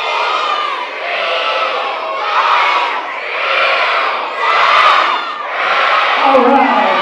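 School children in a gym scream out words together in a loud, sustained crowd roar, rising and falling in several bursts with no pause between them.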